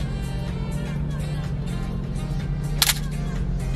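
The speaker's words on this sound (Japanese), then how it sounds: "セルフタイマーはね、10秒のみです。" The mechanical self-timer of a Konica IIIA rangefinder film camera runs with a steady low whirr close by, then ends in a sharp click.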